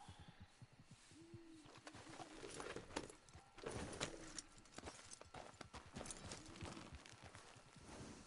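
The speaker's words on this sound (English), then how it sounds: "I hear horses." Horses in Red Dead Redemption 2, steady clip-clop of hooves moving across the ground, fairly quiet, with faint birdsong and a brief whinny in the mix.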